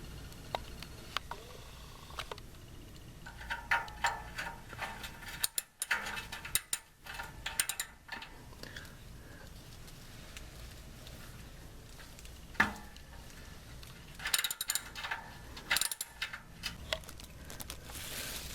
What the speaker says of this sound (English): I'm gonna just use a ratchet,